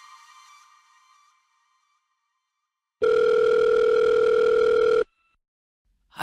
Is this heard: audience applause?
no